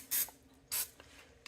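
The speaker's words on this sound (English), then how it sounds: "we are going to start off by spraying them with a little bit of Pam spray" Pam cooking spray hisses onto turkey breasts in two short, close bursts about half a second apart, followed by faint handling noises.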